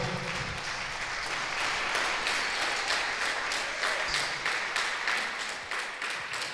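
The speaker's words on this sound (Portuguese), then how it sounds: "Vamos aplaudir bem forte e bem alto ao Senhor" A church congregation applauds the Lord, a dense, steady wash of many hands clapping that sounds somewhat distant and soft and fills the whole stretch, with a faint voice near the start.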